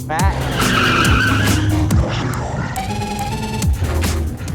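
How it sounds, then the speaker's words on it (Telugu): A car driven fast skids, with loud tire squeals rising and falling in repeated sweeps over roaring engine noise, close and continuous. "ఆపు సూర్య నన్ను నమ్ముకున్న లవర్ ఇలా కార్ని ఫాస్ట్గా నడపడం"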